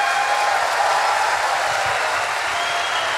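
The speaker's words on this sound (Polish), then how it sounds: "Jeszcze raz, pan generał, wielkie brawa" A seated audience gives sustained applause for General Roman Polko at a public meeting, a steady dense wash of clapping that stays even throughout with no pauses.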